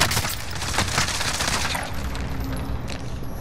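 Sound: gunfire in the video game Call of Duty: Warzone

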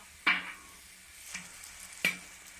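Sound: Frying mould soaking in hot oil for Thai khanom dok jok

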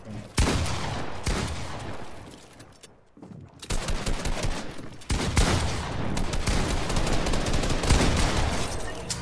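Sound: gunfire from shots in a video game

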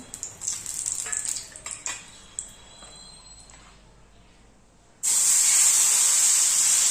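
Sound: oil poured onto hot griddle

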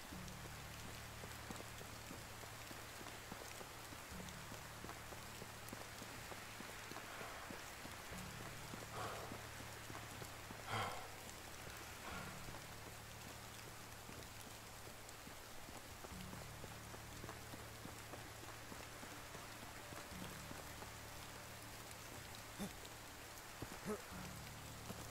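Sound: rain falling in the video game Medieval Dynasty

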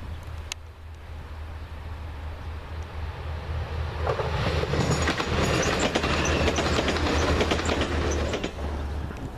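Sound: TransPennine Express train arriving at Eaglescliffe station

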